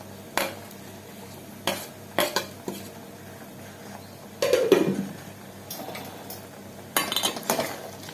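Jaggery is sautéed in a pan, with a metal utensil clinking and scraping against the cookware in scattered short bursts, a few sharper clanks standing out against a quiet background.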